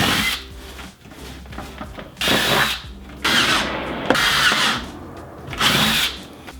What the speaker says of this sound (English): So it's an 11/16 drill bit